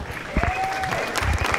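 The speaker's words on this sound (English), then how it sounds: "Give a round of applause for all our judges." Gala audience at an Alzheimer's benefit ball applauding the judges, a short dense burst of clapping with crowd murmur and a faint whistle-like tone running through.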